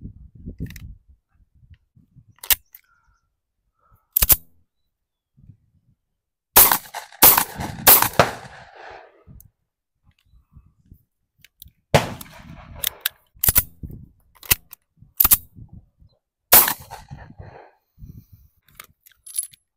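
Series of sharp 9mm pistol shots from a Tisas 1911 Carry B9R at a range, fired singly with uneven gaps and a brief cluster of rapid shots, loud and close with no talking.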